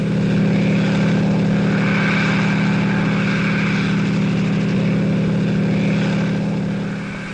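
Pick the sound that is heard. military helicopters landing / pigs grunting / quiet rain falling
military helicopters landing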